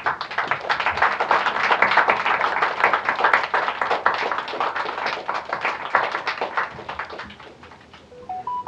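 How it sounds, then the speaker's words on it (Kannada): A press-meet audience celebrating the Yuddha Kaanda 2 film's success claps steadily for several seconds, a dense, lively patter of many hands that thins slightly toward the end. "ಎದ್ದು ನಿಂತ್ಕೊಂಡು ನಿಮಗೊಂದು ಚಪ್ಪಾಳೆ ಕೊಡೋಕ್ಕೆ ಇಷ್ಟಪಡ್ತೀನಿ"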